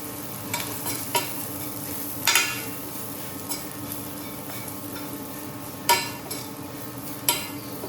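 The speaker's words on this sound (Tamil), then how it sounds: "இதை நல்லா வதக்கிக்கலாம்." Onions and appalam fried with sambar powder in a pan, a low continuous sizzle broken by several sharp scraping stirs of a spoon against the pan, close and without talk.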